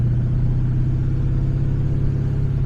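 A car engine hums steadily while driving, a continuous low rumble that stays loud and close throughout with no other sounds on top.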